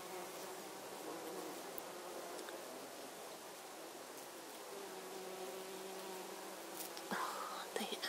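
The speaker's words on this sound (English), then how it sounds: "When he goes, he's going to make a buzz." Honeybees foraging among lavender blooms give a steady, soft insect buzz that hums continuously throughout, faint and close, with a slightly louder flutter near the end.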